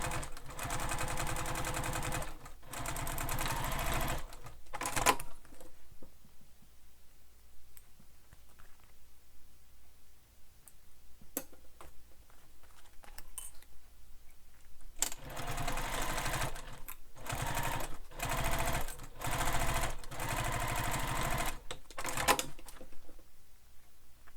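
Sewing machine stitching fabric and Velcro for a beach bag: loud, close mechanical stitching runs start and stop repeatedly, with a long quieter pause in the middle before several more bursts.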